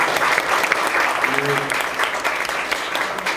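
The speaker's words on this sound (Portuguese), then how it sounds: "Vamos dar uma salva de palmas para os nossos alunos." An audience at a literary café session gives the students a round of applause, dense continuous clapping close and loud, with a brief voice murmuring faintly underneath midway.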